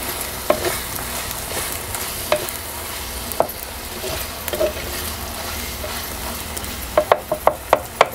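Soya chunk masala with roasted coconut fries in oil as it is stirred, a low constant sizzle close by, broken by scattered scrapes and knocks of a spoon on the pan that cluster near the end.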